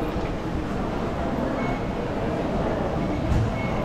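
Steady rumbling roll of a Singapore MRT train in motion, a continuous broadband carriage noise heard from inside with no clear breaks, moderately loud throughout.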